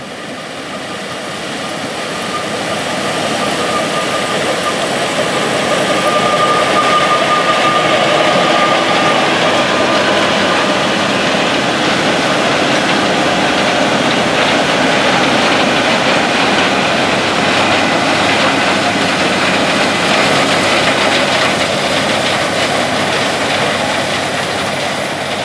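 A CLAAS Lexion 7500 TT combine harvests corn in a Kentucky field, its engine and threshing machinery giving a loud, steady roar that builds over the first few seconds and holds without a break.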